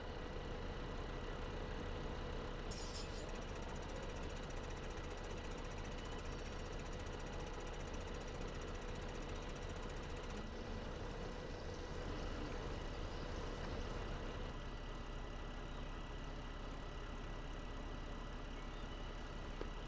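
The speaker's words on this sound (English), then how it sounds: "gotta back the tractor back in there a little bit" Tractor reversing in Farming Simulator 2015 on an Idaho farm map, its diesel engine a steady, knocking, unbroken rumble that holds throughout with no speech.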